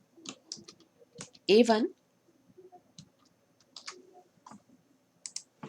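Scattered clicks of typing on a computer keyboard while writing Python code, arriving in short bursts between and under a person speaking.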